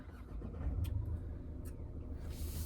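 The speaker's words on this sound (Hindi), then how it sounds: "यहां से कर देते हैं गाड़ी को स्टार्ट" A Tata Curvv diesel automatic car engine starts from inside the cabin, a low steady rumble that swells briefly, then settles into a quiet idle.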